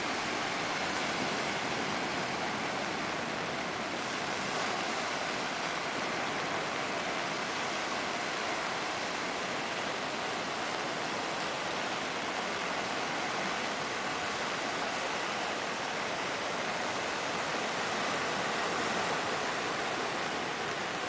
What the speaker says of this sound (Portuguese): Estamos em união com o riozinho que vem da serra